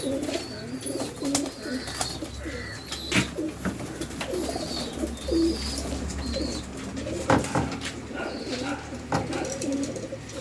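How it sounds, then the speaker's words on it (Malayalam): A crossbred pigeon coos nearby, giving repeated low throaty coos at a relaxed, uneven pace over a faint background of rustling and light chirps. "ഇതാണ് ഗൈസ് ഞാൻ പറഞ്ഞ പ്രാവ്."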